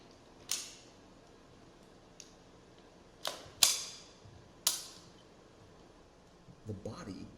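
Metallic clacks and snaps ring out at irregular intervals as a rifle is repeatedly assembled and disassembled in an art installation, five or six sharp, fairly loud clicks over a quiet room hush, with a soft rattle near the end.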